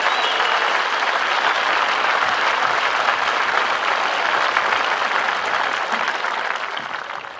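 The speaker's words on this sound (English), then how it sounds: "How about one more round of applause for those serving and those that have served?" Loud, sustained applause from a large crowd fills a high school graduation ceremony, a dense, even wash of clapping that carries on for several seconds before easing slightly at the end.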